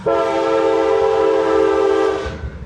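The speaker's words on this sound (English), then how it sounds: "we got a train coming through" A passing train sounds one loud, steady horn blast close by, holding for about two seconds before cutting off abruptly, with no talk over it.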